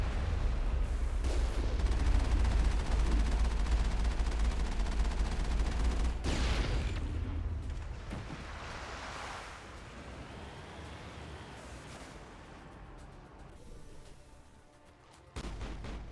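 Heavy artillery and gunfire in Mass Effect on Virmire: loud booming blasts and rumbling impacts in the first half, fading to a quieter, distant roar before another sharp burst near the end.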